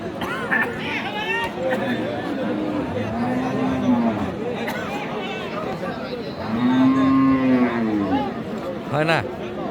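Cows, including Deshal and Sahiwal cows with calves, moo several times at a busy rural cattle market in Aftabganj, Dinajpur. The long, loud lows rise over constant crowd chatter and bargaining voices.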